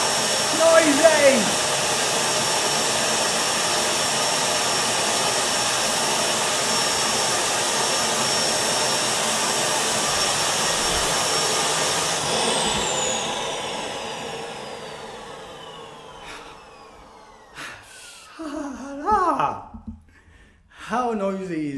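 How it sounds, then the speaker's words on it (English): A small vacuum cleaner runs loudly with a steady high-pitched whine for several seconds, then winds down and fades out as a voice speaks over it near the end. "How noisy is this freaking vacuum cleaner?"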